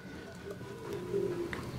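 A racing pigeon coos softly at close range against a low background murmur, giving a few faint throaty coos.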